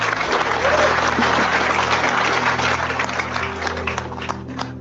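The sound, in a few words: audience applause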